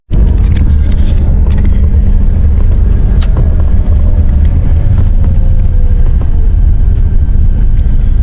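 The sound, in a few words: bus arriving at stop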